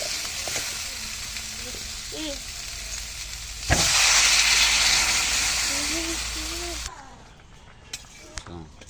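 Water poured into a pan of sautéed bottle gourd and shrimp curry sets off a sudden loud hiss and sizzle that fades over a few seconds. Steady frying crackle and a voice speaking come before and after it.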